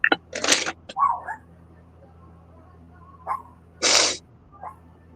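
Two sharp, loud human sneezes, one near the start and one a few seconds later, with brief short vocal sounds in between against a quiet background.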